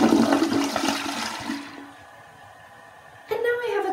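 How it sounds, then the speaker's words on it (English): A restroom toilet flushes in a loud rush of swirling water that drains away to a quiet trickle, followed by a brief refill gurgle near the end. "Now I'm going to flush that down."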